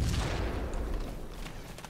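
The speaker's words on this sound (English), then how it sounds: "Just listen for the gunfire." Gunfire in the military game Arma 2 during a forest assault, a burst of distant booming shots rolling out and fading over two seconds.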